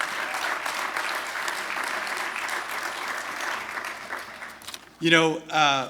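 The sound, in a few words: audience applause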